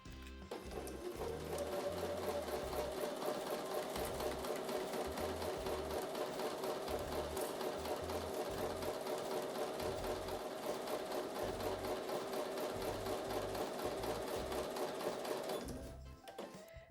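A sewing machine stitches quilt block pieces together with a quarter-inch seam, its motor whirring in a steady, continuous run for about fifteen seconds before stopping, close and fairly loud with no talking.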